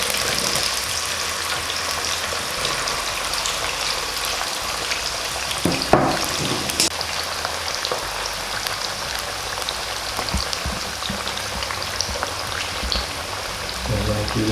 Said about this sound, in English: What's it doing? It's sizzling.